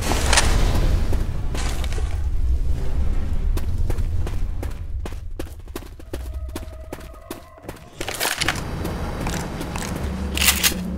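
A thrown explosive goes off in the zombie shooter Left 4 Dead, a loud, booming blast with crackling debris and rapid impact hits, followed by a second burst of noise near the end amid gunfire-like clatter.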